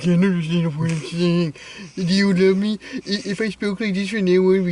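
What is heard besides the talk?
No everyday noises stand out.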